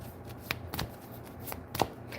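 Tarot cards are shuffled by hand, quiet close riffles and soft slaps in short irregular bursts, with no talking.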